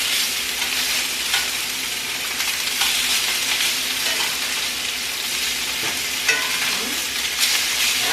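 Food searing in a hot pan during a week's meal prep, with a loud, steady sizzle and crackle running the full length, close up and with no talking.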